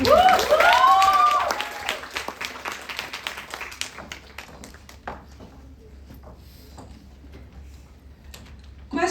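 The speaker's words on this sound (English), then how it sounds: "Let's give her a warm welcome with a huge round of applause." An audience at a stage talk gives a speaker a warm welcome with loud applause and a few whoops, strongest at first and then thinning out into scattered claps and a fading crowd.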